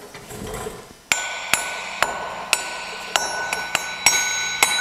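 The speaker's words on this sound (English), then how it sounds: "I'm driving the drum on the rest of the way" Hammer blows drive a brake drum onto the axle of a Farmall H tractor: eight sharp metallic strikes at a steady pace, close and ringing, following a short stretch of quieter handling noise.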